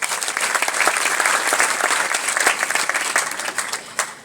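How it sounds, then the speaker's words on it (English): A crowd at a public lecture at Pwani University in Kenya breaks into loud, sustained applause. Dense clapping fills the room close by and fades slightly at the end. "I want you to clap for Aisha June."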